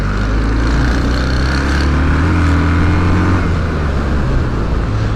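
City bus in Istanbul pulling into a stop, a loud, close engine drone with low rumbling tones that shift and ease down as it slows, steady traffic noise throughout and no talking.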